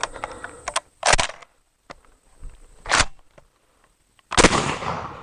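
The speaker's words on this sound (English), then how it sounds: "especially if I'm shooting 1-ounce slugs" A Smith & Wesson M&P12 shotgun firing 1-ounce slugs on a range, three loud, sharp blasts spaced a second or more apart, with fainter clicks and handling noise between them.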